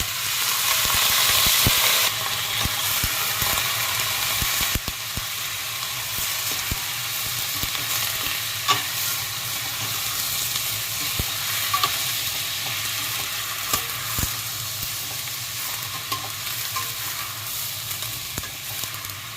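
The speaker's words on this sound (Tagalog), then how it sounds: "Ngayon, igisa na natin ang ating" Steady sizzling and frying of native chicken in a hot pan, with occasional stirring clatter and scraping, loud and continuous throughout.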